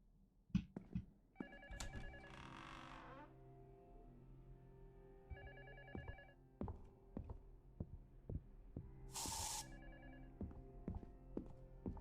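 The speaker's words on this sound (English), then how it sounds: "Oh, my phone's ringing." Phone ringing in the horror game LUTO: repeated electronic ring bursts recurring across the scene, over a low hum and scattered thumping knocks, with no talk.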